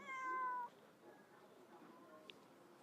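A house cat gives one clear, loud meow at the start, then a quieter room tone with faint murmurs follows, no distinct talking.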